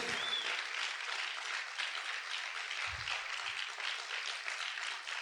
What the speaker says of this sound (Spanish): Vamos a aplaudir fuerte a nuestro Dios, que se escuche ese aplauso.